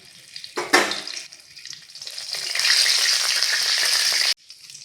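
Whole spices, bay leaf, cardamom, clove and cinnamon, hit hot oil with a sharp crackle, then settle into a steady sizzle that swells and stops abruptly before a fainter sizzle returns.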